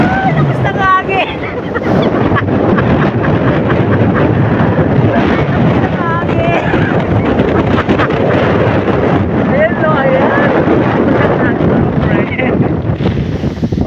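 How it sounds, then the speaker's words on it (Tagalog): Strong wind on a hike roars loudly and steadily across the microphone throughout, with people talking beneath the gusts. "Lakas ng hangin."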